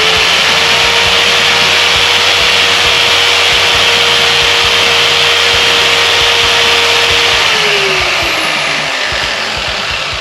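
A dual-action buffer pad spins against a cleaning brush with a loud, steady whirring hum, the motor pitch dropping as it winds down near the end, with no talk.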